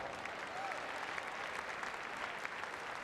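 Steady applause fills a basketball gym as a crowd claps for youth award recipients, the Believers and Achievers, during a girls' title game between Seward and Beatrice, a dense even patter from start to end.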